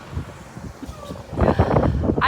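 Strong wind gusts buffet the microphone in low, uneven rumbles at Mont Saint Michel in Normandy, France, swelling louder in the second half, with a voice faintly present.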